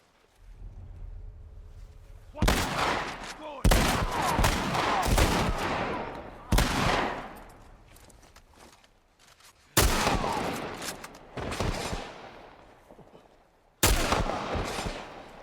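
Gunfire in The Last of Us Remastered: several loud, sharp bursts of shots separated by pauses, each followed by ringing decay, over quiet ambience.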